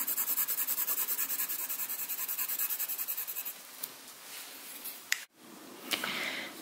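A pen scratches across paper while small heart-structure notes are written, with soft rhythmic strokes up close, then a few isolated scrapes and taps after a brief pause.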